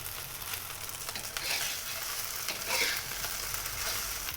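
Fried rice with Chinese sausage sizzles on high heat in a pan. The hiss is steady and crackling, with brief louder spits as the rice is tossed.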